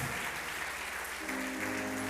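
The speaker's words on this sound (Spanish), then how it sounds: "Démosle palmas al Rey por la vida de los hermanos que nos visitan." A church congregation claps together in steady, dense applause that carries through the whole stretch, close and fairly loud, with a faint tonal hum rising beneath it near the end.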